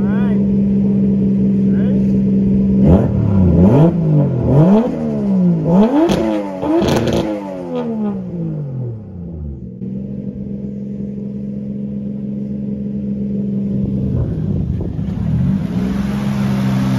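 A Lexus GX470 engine revs hard several times in quick bursts, then settles to a steady idle, loud and close, with a voice briefly audible near the end.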